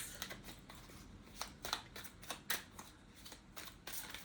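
Galactic oracle cards shuffled by hand, soft papery riffles and flicks in quick irregular bursts, close but very faint, with no talking.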